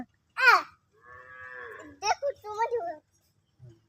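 A cow moos once, a long, fairly close call in an otherwise quiet setting, with a short burst of talking before it and a few spoken words after.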